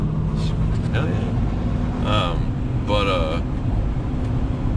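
A warmed-up truck engine idles as a steady low rumble, with someone talking over it close by.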